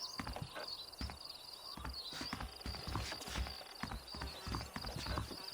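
Horses clip-clopping in the Red Dead Redemption video game, a quick, steady patter of hoofbeats from several animals close by, with no speech over them.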